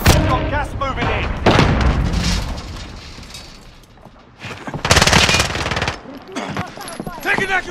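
Rapid automatic gunfire in Call of Duty, with dense machine-gun bursts cracking out in several loud volleys separated by short lulls.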